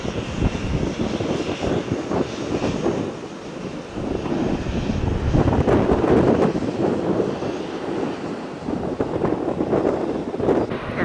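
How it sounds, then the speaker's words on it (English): A Boeing 737-900 airliner departs Tampa on a stormy day, its jet engines producing a loud, sustained roar mixed with wind buffeting on the microphone, heard close and steady throughout. "There goes 1662 to MSP. 737-900 service."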